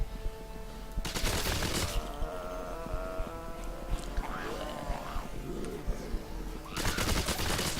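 Pistol gunfire in the zombie shooter Dead Purge: Outbreak, loud bursts of rapid shots opening and closing the stretch, with quieter game ambience and a voice between them.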